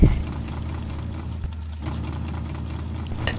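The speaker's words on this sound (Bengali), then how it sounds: "আর যাই কও গাড়ির সাউন্ডও কিন্তু মারাত্মক" A motorbike engine in the Bangladeshi video game Project Bangla runs with a steady low idling rumble throughout, close and continuous with no talk over it.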